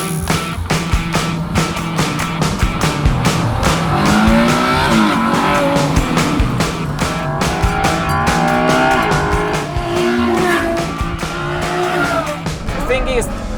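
Loud roaring Ferrari GTC4Lusso naturally aspirated 6.3-liter engine revving hard with tire squeal and skidding, rising and falling pitch as it drives close by.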